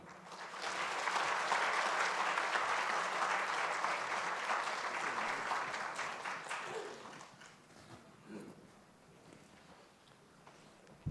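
Applause from a church congregation after a lecture, a loud burst of many hands clapping that holds for several seconds and then tapers off into scattered claps and room murmur.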